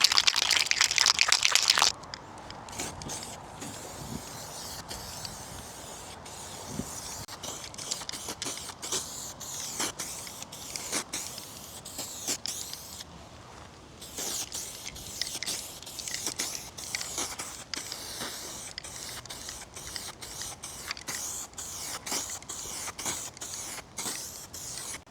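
Spray can paint hisses in short bursts over aftermarket fender flares, with an early loud rattling shake of the can, then repeated spray passes separated by brief pauses.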